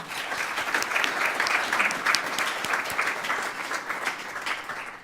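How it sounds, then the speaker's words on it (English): Sustained audience applause at an annual civic meeting of a city club, a dense steady wash of many hands clapping for about five seconds, fairly distant and even in loudness, with no voices over it. "Please join me in giving her a round of applause."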